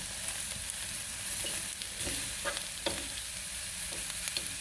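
Grilled pork belly (liempo) sizzling on the grill, a steady close crackling hiss with occasional sharper pops and no talking.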